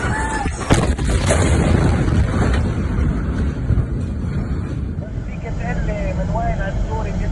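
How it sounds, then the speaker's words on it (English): A loud, booming explosion in Lebanon with rumbling aftermath, mixed with distant shouting and a high whine, recorded from some distance. "Explosion in Lebanon."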